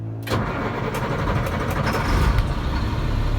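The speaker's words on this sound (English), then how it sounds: "Truck fires right up." A 2001 Freightliner FL80 boom truck with about 133,700 miles cranks briefly and fires up, settling into a loud, steady diesel idle rumble up close with no talking.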